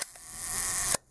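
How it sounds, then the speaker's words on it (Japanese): A 1953 Leica IIIf Red Dial rangefinder fires its cloth shutter at a one-second speed, giving a sharp opening click, a quiet mechanical whir lasting about a second, then a second close click as it shuts. "シャッター音なども聞いていただけていると思いますね"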